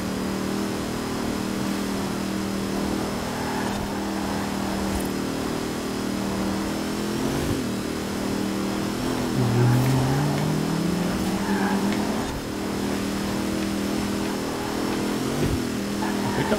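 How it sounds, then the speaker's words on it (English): A supercharged Ariel Atom engine in Forza Horizon 4 drones loud and close, holding a steady note for most of the stretch before a brief rising sweep midway that settles back into the same engine hum. "Got a supercharger on here, and you can definitely hear it."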